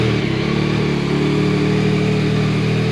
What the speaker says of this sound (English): So let's listen to the startup, and you'll be able to tell this thing sounds fantastic.